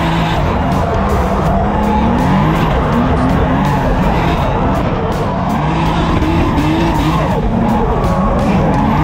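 A Nissan 350Z drifts with loud, continuous tire squeal and skidding over a revving engine, close and sustained, with faint crowd noise.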